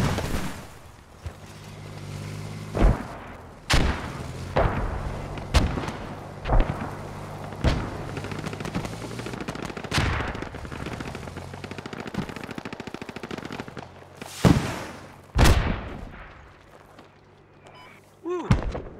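Battlefield gunfire in the military shooter Squad, with repeated sharp shots and bursts, a few heavy rocket-like blasts, and a low vehicle engine rumble underneath, some loud and close, others distant, with a voice speaking at times.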